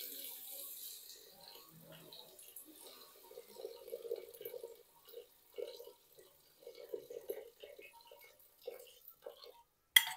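Water poured from a glass into a pressure cooker over fried mutton masala, heard as a few soft, intermittent splashing bursts at close range with quiet kitchen noise around them.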